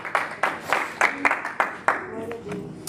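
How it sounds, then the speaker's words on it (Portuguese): A seated church congregation claps for Jesus after a prayer, a string of loud, fairly regular group claps that fade out near the end, with faint murmuring underneath. "Pode ser sentado dando uma salva de palmas para Jesus."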